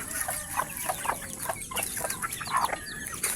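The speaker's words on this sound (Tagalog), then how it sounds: "kita nyo may inahin may mga sisiw na maliliit" A native chicken hen gives several short clucks that mingle with high, thin peeps from her small chicks over steady outdoor background noise; no talking.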